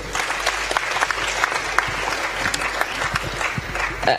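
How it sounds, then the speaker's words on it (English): An audience at a cash competition grand finale applauds an investment club, a full, sustained clapping with sharp individual claps poking through and faint crowd voices underneath for about four seconds. "Round of applause for them."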